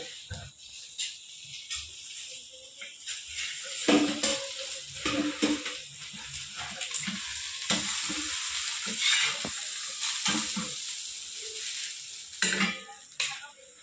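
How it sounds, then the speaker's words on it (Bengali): Hilsa fish paturi wrapped in banana leaf fries on a gas stove, giving a steady bright sizzle broken by repeated scraping and clattering of a utensil against the pan, close and fairly loud. "এক পিঠ আমার ভাজা ভাজা হয়ে গেছে, পরের পিঠটা আরও 10-15 মিনিট আমি ভাজা ভাজা করে নেব, ভাপিয়ে নেব।"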